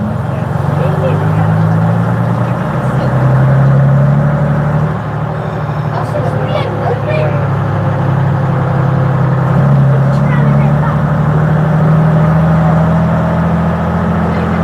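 A bus engine at a transport festival on Barry Island drones loudly and steadily, straining with a low rumbling note that rises slightly as it labors up a slight incline.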